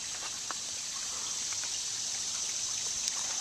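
A creek flows steadily with a continuous hiss of running water, close and even, with small trickling splashes throughout and no talking.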